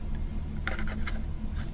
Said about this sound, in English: take your scissors very carefully, clip those off